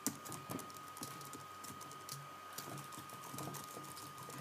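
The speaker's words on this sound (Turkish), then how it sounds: "Gördüğünüz gibi yeni mouse'um yani çok iyi. Daha hızlı tıklayabiliyorum." A new computer mouse clicked rapidly while playing Minecraft Hunger Games, a dense, faint stream of light plastic clicks and keyboard-like tapping with no talk.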